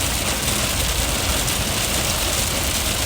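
Very heavy rain during a severe tornado-warned storm in Roseville, falling as a dense, steady roar of broadband noise with no letup and no voices across the whole stretch.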